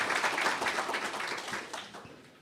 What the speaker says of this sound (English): Please, another round of applause for Mayor Woodford.